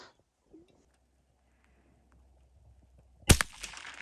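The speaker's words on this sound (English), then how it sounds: "we figured we would let the kids shoot the 22 a little bit" A single sharp .22 rifle shot cracks out near the end after a few seconds of near silence, loud and close with a brief echoing tail, fired by kids outdoors.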